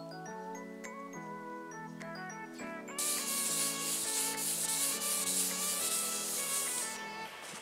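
Sandpaper rubbing over car body paint on a Chevy Caprice, a steady close scratchy rasp that grows louder and harsher partway through and continues alone without talk.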